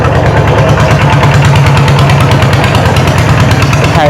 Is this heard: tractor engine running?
yes